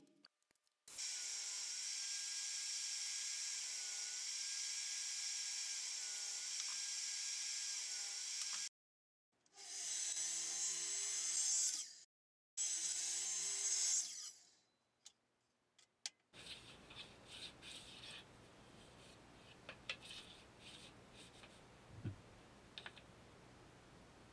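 Band saw cutting wooden pieces for a jig frame, a steady loud whine with two shorter cuts after a pause, then quieter workshop ticks and knocks.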